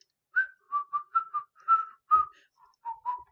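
A person whistles a short, halting tune, about ten clear separate notes in an uneven rhythm, close and alone with no talking.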